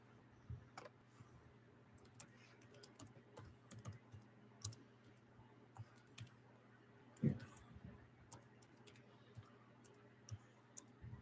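An email address is typed on a computer keyboard, giving soft, irregular clicking keystrokes in quick bursts with short pauses, fairly close and quiet, with faint low background hum.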